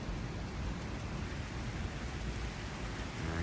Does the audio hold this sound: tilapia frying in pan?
no